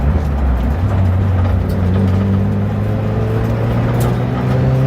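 A Mitsubishi Evo engine, running rich without a tune, revs up from idle in a loud close drone whose pitch climbs gradually and holds steady, with no voices over it.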